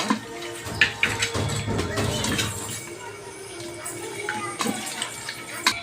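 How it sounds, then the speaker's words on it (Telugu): Water splashes into a pot of mutton being cooked for biryani, a loud bubbling pour with clinking of utensils, preceded by a few sharp knocks. "ఇందులో కొంచెం వాటర్ అయితే వేసి ఉడికించుకొని"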